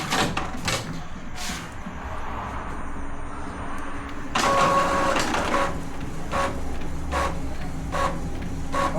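An Epson L3110/L3210 inkjet printer feeds paper and makes a copy, giving a steady mechanical whir with a run of repeated clicks and clunks and a louder motor surge partway through, heard close up.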